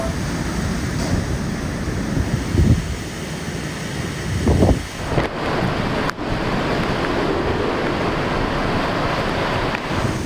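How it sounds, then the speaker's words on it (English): Storm surge waves roll into a bay during a typhoon on Guam as a loud, continuous roar of surf under heavy wind noise, with a couple of heavier wave surges standing out partway through. "here comes another one of these waves coming in"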